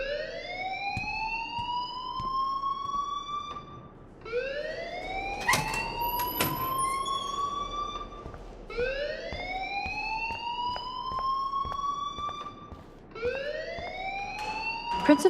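An electronic alarm blares in the Life is Strange game, a rising wailing tone repeating in long sweeps about every four seconds, loud and continuous with faint background clatter.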